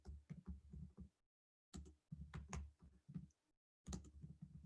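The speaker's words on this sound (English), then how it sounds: "I'll type, but hopefully you type with me" Someone types on a computer keyboard in short bursts of close, crisp key clicks, broken up by brief silent gaps.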